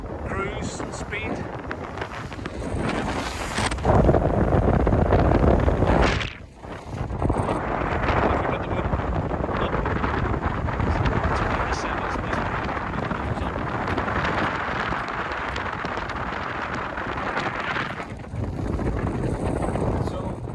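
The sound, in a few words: wind blowing on a boat's flybridge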